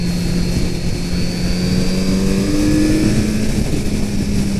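The engine of a 2018 Kawasaki Z900RS motorcycle drones steadily and loudly while riding, its tone climbing gradually over several seconds under heavy wind rush, with no talking.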